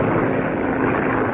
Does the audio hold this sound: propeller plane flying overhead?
yes